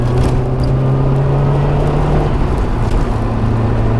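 Remapped Lancia Delta Integrale with a big exhaust accelerating on boost along a mountain road, a steady loud engine drone with a whirring tone that holds throughout, heard from close by.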